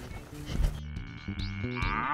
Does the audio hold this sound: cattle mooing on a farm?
yes